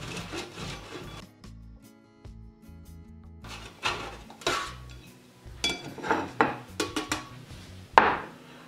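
A wedge of parmesan is rubbed across a fine kitchen grater in rhythmic rasping strokes that come in quick bursts, close and fairly quiet, with short pauses between passes and no talking.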